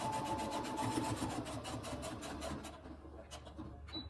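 A sewing machine runs a back stitch across a shirt cuff, its fast mechanical chatter close and steady before it slows and stops, leaving a few clicks and faint speech.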